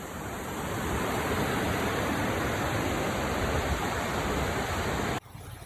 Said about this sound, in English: Can you see the rapids? The water is now flowing a lot faster, and it's also a lot wider than it was.